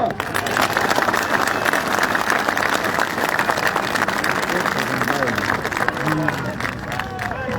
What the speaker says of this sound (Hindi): शहरियार के लिए तालियां।